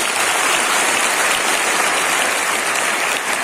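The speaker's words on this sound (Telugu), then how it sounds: "గట్టిగా చప్పట్లు కొట్టండి" A steady wash of audience applause at a school nutrition month event, dense, even clapping holding at full strength for a few seconds with no voices over it.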